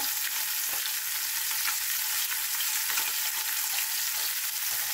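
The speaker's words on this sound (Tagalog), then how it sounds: "Lagay na natin ang ating gata." Coconut milk poured into a pan of frying tilapia with pechay and squash gives a steady, close, continuous sizzle and bubbling hiss with no voices.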